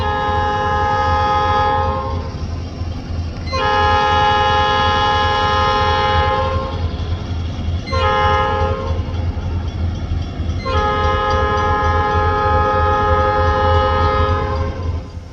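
A GP38-led freight train rolls past in the rain, its horn blaring loud and close in several long blasts separated by short gaps, while the wheels clatter steadily underneath.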